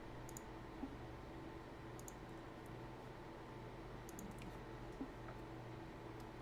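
Mechanical keyboard keys clicking steadily in light bursts, faint and close-up under a broad hiss of background noise, with no voices.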